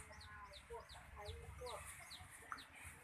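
Chickens roaming around a rural homestead cluck in short, repeated calls, fairly quiet over a soft background murmur.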